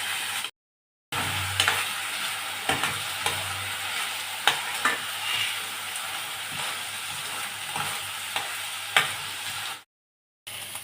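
Rice sizzles and hisses in hot oil while a utensil scrapes and stirs the pan in repeated strokes, with a brief silence near the start and end.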